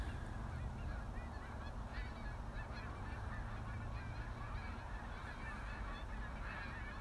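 Geese honk in a noisy, continuous commotion at twilight in Snohomish, Washington, with some birds taking flight; the calls overlap densely and sound moderately distant, with no one talking.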